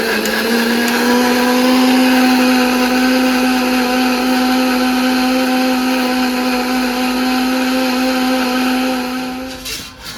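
Mixer grinder jar blending chopped mango into paste, a loud steady motor whine with strong harmonics running continuously close by, then cutting off near the end.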